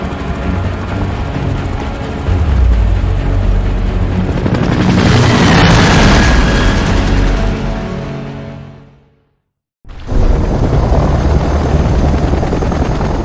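A loud, close helicopter in Gears of War: Judgment with thudding rotor blades and a whining engine swells, cuts abruptly to silence, then returns just as loud.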